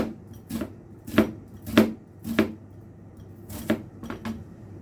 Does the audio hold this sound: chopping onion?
yes